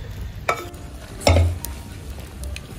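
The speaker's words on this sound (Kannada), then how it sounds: "ಏನು ನೀರುಳ್ಳಿ, ನಂತರ ಕಾಯಿಮೆಣಸು, ಬೆಳ್ಳುಳ್ಳಿ, ಜಿಂಜರ್ ಏನು ನಾನು ಇದರ ಜೊತೆ ಕಾಯಿಸಿದ್ದೆ, ಅದನ್ನು ನಾನು ಇವಾಗ ಇದಕ್ಕೆ ನಾನು ಸೇರಿಸ್ಕೊಳ್ತಾ ಇದ್ದೇನೆ ಮಾಂಸಕ್ಕೆ" Onion, chili, garlic and ginger stirred into roasting pork in a pan, giving soft scraping stirs and a couple of sharp clinks over a low steady sizzle.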